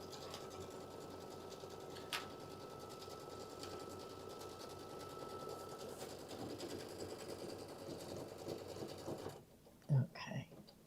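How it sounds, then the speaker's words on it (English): A Brother IQ Designer embroidery machine stitching a wine bag, giving a steady, fast mechanical whir and needle chatter that runs continuously and moderately close, then stops near the end, followed by a brief knock. "we're going to be sewing with this one for a while"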